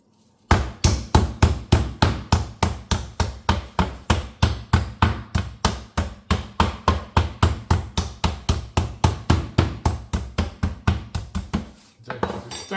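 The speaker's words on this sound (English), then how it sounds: "Let me make sure just to hammer it on both sides" A meat hammer pounds a raw ribeye steak in a steady, rapid series of about forty loud thuds on a board, each strike sharp and evenly spaced, ending with a brief shuffle.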